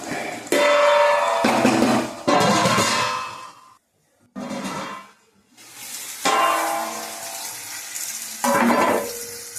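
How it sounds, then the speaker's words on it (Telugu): Onions, green chillies, curry leaves and tomatoes cook in a pan for a chicken meal for ten, making several bursts of sizzling and stirring, with brief pauses between them and no talk. "ఉల్లిపాయలు పచ్చిమిరపకాయలు బాగా వేగిన తర్వాత మరి కొంచెం కరివేపాకు కూడా వేసి టమాటాలు వేసి ఈ విధంగా అయితే కొంచెంసేపు మగ్గనిద్దాం"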